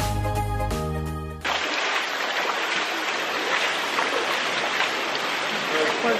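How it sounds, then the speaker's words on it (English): A waterfall in Bali roars as a dense, steady broadband rush after a brief musical intro, loud and continuous to the end. "We're going inside to see the waterfall."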